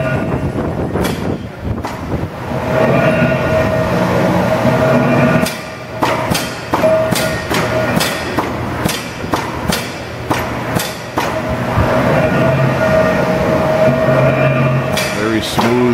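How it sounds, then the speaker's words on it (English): A Chicago 10-foot, 225-ton mechanical press brake runs in a workshop, a loud steady mechanical drone broken by repeated sharp thumps and clanks, heard close. "225-ton mechanical press brake."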